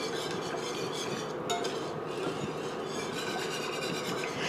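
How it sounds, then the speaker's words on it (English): Whisk scraping steadily through lemon curd made with eggs and cold butter as it thickens in a pot, a continuous close rubbing, swishing sound with no talking. "when you're whisking a lemon curd, it's not like making a pastry cream"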